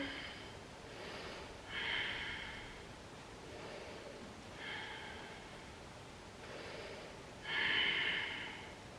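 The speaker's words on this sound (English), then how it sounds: "Keep on breathing deeply." A yoga practitioner takes slow, deep breaths during a vinyasa flow, with three soft inhale-exhale cycles, each peaking in a breathy rush, close and quiet.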